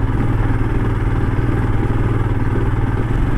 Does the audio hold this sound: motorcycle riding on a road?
yes